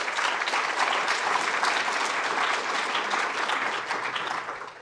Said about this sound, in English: Big applause to all the speakers.